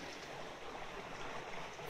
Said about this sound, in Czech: Chomutovský zoopark má kromě zvířat také tento umělý potůček.